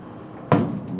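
The door of a 1929 Chrysler swings shut with a single sharp thunk and a short metallic ring that fades away. The door sits badly gapped, so it strikes the front of the cowl as it closes.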